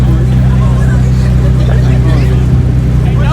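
A loud, deep rumbling straight-pipe exhaust on a Dodge Scat Pack drones steadily throughout, with voices chattering faintly underneath.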